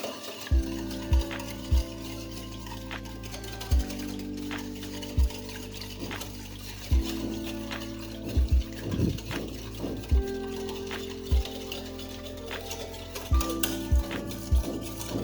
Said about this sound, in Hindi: अब मैं इसको अच्छे तरीके से मिक्स करूँगी कि शुगर, मिल्क और ऑयल अच्छे से कंबाइन हो जाए